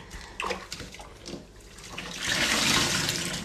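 A sponge squeezed and rinsed in water, close and soft, with splashing and dribbling that swells into a steady rushing pour toward the end.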